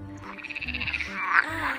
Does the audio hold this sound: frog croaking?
yes